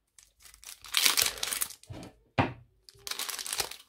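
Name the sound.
tearing open a Pokémon card booster pack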